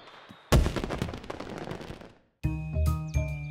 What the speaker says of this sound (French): Les feux d'artifice